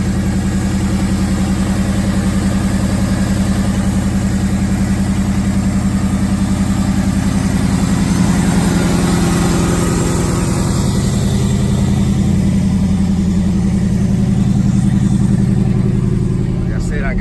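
A Cutlass engine with a Magnaflow aftermarket exhaust idles steadily close by with a deep, throaty rumble throughout, a small exhaust leak at the front, while someone talks over it.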